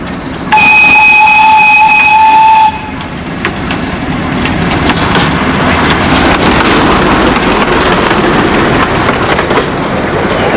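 The miniature steam locomotive Owl from the Kirklees Light Railway, running on the Cleethorpes Coast Light Railway, gives a clear two-second steam whistle blast, then chuffs and rumbles steadily along the track.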